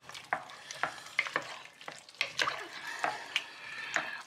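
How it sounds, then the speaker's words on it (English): A wooden spoon stirring a thick vegan bean chilli with sweetcorn in a pan, irregular wet scrapes and squelches over a soft simmering sizzle, close and without talk. "Give it a good old stir."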